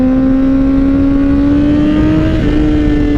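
A 2012 Honda CBR 1000RR sport motorcycle engine hums loudly and steadily with a slowly rising tone, close up, without any talk.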